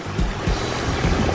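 Water splashes steadily from a backyard waterfall outdoors, with a continuous broadband rush and occasional heavier splashes, loud and close with no voices.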